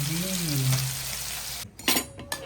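A prawn fry sizzles in a pan with a close, hissing crackle under a brief voice-like hum, then cuts away to sharper clinks and short bursts of frying.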